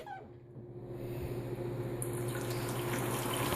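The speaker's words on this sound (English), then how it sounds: "So look at all that water coming out." Water draining out of a Nina Soft Spin dryer, a steady rushing stream that builds and grows louder over a low motor hum, with no talking.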